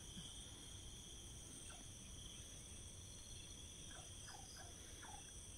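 Faint frogs croak in short scattered bursts over a constant hiss of insects and night ambience, distant and low in level.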